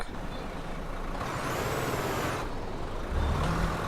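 An Iveco Stralis truck idling at a red light in town lets out a loud air-brake hiss that swells and then cuts off, over a steady engine rumble, heard from close range.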